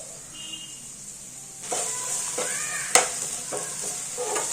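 Potatoes sautéing with turmeric and chili powder in a pan, a soft hiss that jumps louder as stirring begins, with a sharp utensil clank and scraping strokes close by.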